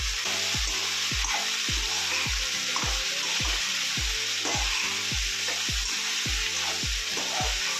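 Eggplant pieces and raw prawns sizzle in a pan for an eggplant and raw prawn curry, a steady hiss of frying with regular stirring knocks against the pan, close and moderately loud with no talking.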